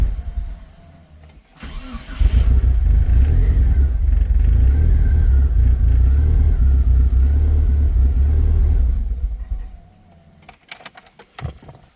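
The engine of a Mitsubishi Eclipse 2G GSX cranks briefly and catches, then settles into a loud, steady, rumbling idle close by for several seconds before it cuts off and fades out.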